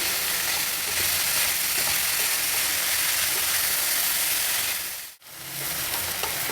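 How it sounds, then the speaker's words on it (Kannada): Steady, loud sizzling of vegetables frying in hot oil with tempering, a continuous hiss that briefly cuts out before resuming. "ತರಕಾರಿನೆಲ್ಲ ಒಗ್ಗರಣೆ ಮೇಲೆ ಹಾಕಿದಾಗ ಒಂದು 3 ನಿಮಿಷ ಆದರೂ ಚೆನ್ನಾಗಿ ಎಣ್ಣೆಯಲ್ಲಿ ಹುರಿಬೇಕು."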